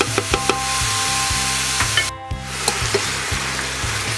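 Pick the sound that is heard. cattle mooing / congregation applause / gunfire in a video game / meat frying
meat frying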